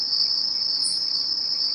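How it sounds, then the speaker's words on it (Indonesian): Crickets chirp in the evening in a continuous, dense, high-pitched trill that stays loud and steady throughout, with no voices. "Suara jangkrik bersaut-sautan"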